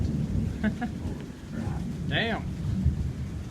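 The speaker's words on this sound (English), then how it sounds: "Thunder." Low, rolling thunder rumbles steadily through a rain storm in southern Ontario, filling the background while a voice briefly exclaims over it.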